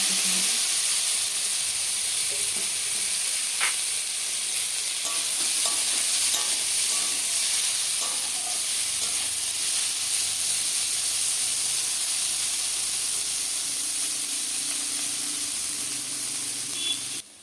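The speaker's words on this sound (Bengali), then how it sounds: "কলাগুলো লাল লাল করে ভাজা হয়ে গেছে" Boiled plantains and potatoes fry in hot oil in a wok, a continuous bright sizzle and hiss close by, with occasional stirring scrapes and clinks; nobody talks.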